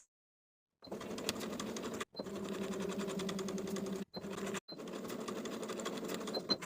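A sewing machine bastes across a collar pinned to the front bodice and back yoke of a top with a half-inch seam allowance, whirring steadily in three close, loud runs broken by brief stops.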